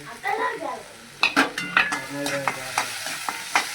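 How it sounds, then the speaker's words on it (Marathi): Chopped onion and tomato fry and sizzle in a pan for pav bhaji, with a spoon stirring and scraping in repeated close, sharp strokes over a steady sizzle, no talk. "कांदा टाकून घेते, टमाटर टाकून देईल"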